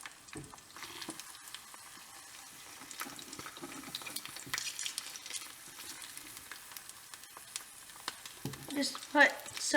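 Egg frying in oil in a pan, a soft steady sizzle with faint crackles, joined near the end by a brief scrape or clink of a utensil.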